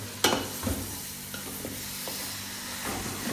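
Chicken leg pieces are stirred in a hot pan: a sharp scrape and clatter at the start, then steady sizzling with a few softer stirring knocks.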